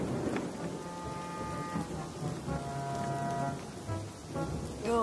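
Steady rain with rumbling thunder in an animated adventure scene set in a lost city, continuous and fairly close, with a low tonal drone running beneath the downpour.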